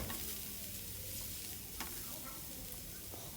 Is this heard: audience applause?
no